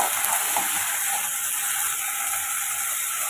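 Chili and tomato sautéing in a pan for a Tamil curry with goat trotters, eggplant and drumstick, giving a steady, dense sizzle with faint scraping and stirring, close and continuous with no talk.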